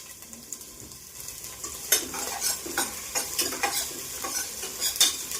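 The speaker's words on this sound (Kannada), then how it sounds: "ಈರುಳ್ಳಿ 1 ಈರುಳ್ಳಿ, ಹಸಿಮೆಣಸಿನ್ಕಾಯಿ ಹಾಕಿ ಚೆನ್ನಾಗಿ ಫ್ರೈ ಮಾಡ್ಕೋಬೇಕು" Onion and green chili frying in a spoonful of oil in a pan while being stirred, with a steady close sizzle and repeated scraping stirs and light utensil clinks; no one speaks.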